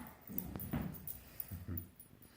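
Faint dog sounds inside a home in Barstow, in two soft, low, whimpering bursts about a second apart, heard from a distance in a quiet room.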